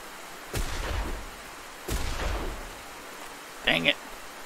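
Two loud, separate gunshots in the hunting and survival game Open Country, each a sharp crack followed by a rumbling tail, spaced about a second apart, then a brief high-pitched electronic chirp.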